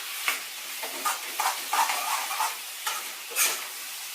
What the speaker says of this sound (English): And we can also mix a little bit of salt now. And stir it.